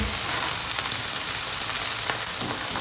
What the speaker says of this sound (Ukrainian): Після цього я просто додаю грибочки.